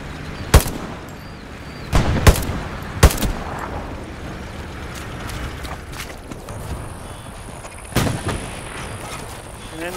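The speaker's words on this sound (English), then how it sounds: "We're being shelled now." Gunfire and shelling in Hell Let Loose, a World War II battlefield game: several sharp, loud single blasts and shots spaced a second or more apart over a rumbling combat backdrop, with distant crackling fire.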